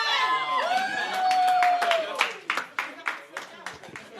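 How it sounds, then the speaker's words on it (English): Student union crowd applauding and cheering a newly announced Women's Officer at a winter election results event, a sustained wash of clapping and voices swelling before breaking into sharper scattered claps and whoops. "A round of applause for your Women's Officer for 2015 and 16."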